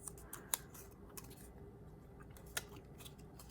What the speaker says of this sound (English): I will do is simply use my scissors and cut it out.